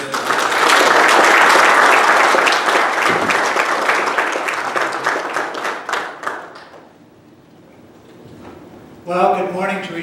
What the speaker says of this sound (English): So if you give him a round of applause.